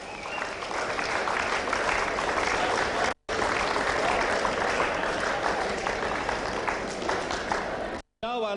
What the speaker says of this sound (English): Ladies and gentlemen, please give him a round of applause.